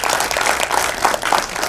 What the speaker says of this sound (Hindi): एक बार जोरदार तालियां हो जाए for the legends